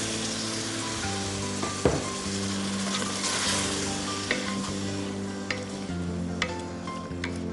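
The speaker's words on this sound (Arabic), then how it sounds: "راح نضيف المي الدجاج." Chicken sizzles steadily in a pot as water goes in, with stirring scrapes and a few clinks of a utensil against the pot, close and continuous throughout.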